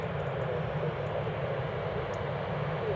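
A Ryanair Boeing 737-800 airliner at Newcastle International Airport gives off a steady, even engine roar, distant and unchanging throughout.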